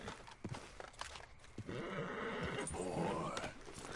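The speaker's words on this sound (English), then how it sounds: "Ah, you stupid horse." A horse in Red Dead Redemption 2 lets out a long, loud, rising whinny that lasts about two seconds. Hoof clatter and game ambience come before it, with no talking.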